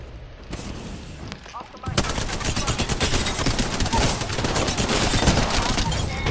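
Rapid automatic gunfire in the video game Apex Legends, bursts of loud close shots firing almost continuously after a quieter opening, with faint voices mixed underneath.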